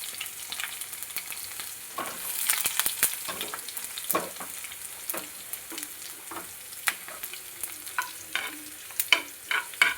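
Garlic and curry leaves fry in hot oil in a pan while a spoon scrapes and stirs, giving a steady crackling sizzle broken by sharp clicks and clinks of metal against the pan.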